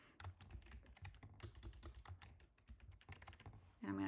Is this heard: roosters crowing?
no